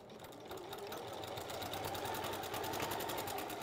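A sewing machine stitches continuously down the sides of a small seam, its rapid, even needle chatter steady and close throughout.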